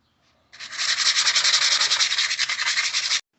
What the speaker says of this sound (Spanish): pues ya quedó lijado